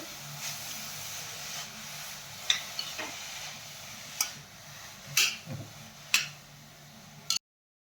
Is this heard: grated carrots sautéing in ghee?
yes